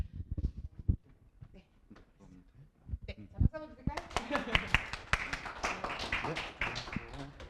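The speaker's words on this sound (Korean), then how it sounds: "선생님 들어오면 우리 뜨거운 박수 한번 부탁드릴게요." Students at a winter school orientation break into dense clapping as their homeroom teacher enters, following a stretch of talk and scattered taps, the applause building and sustained to the end.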